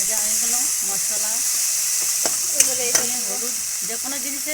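Chickpeas and potatoes frying with spices in a pan, a steady close sizzle with scraping stirs and a couple of sharp clinks, with voices talking over it.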